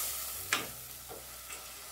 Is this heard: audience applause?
no